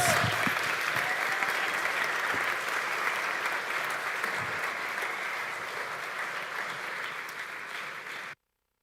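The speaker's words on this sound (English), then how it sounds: "Let's give them a round of applause." Sustained audience applause in a church setting after a panel discussion, a dense, steady roar of clapping that holds evenly for about eight seconds before cutting off abruptly.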